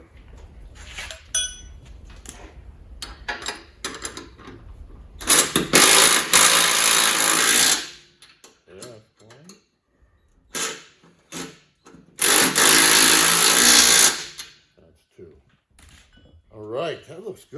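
Power tool tightening the bolts on a vehicle's shock absorbers in two loud sustained bursts, separated by clinks of tools and brief talk.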